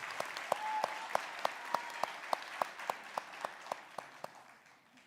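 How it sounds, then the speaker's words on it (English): Applause at a nursing school graduation pinning ceremony, with a steady wash of crowd clapping and a few sharp, regularly spaced louder claps standing out near the microphone, tapering off toward the end. "Round of applause for this group while they get their pins."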